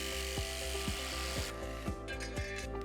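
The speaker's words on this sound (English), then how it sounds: "Mark the aluminium to be cut and then using your jigsaw," A jigsaw cuts an aluminium carrier for a roller shutter door seal, with a steady buzzing drone and regular rasping strokes about every half second, close and continuous.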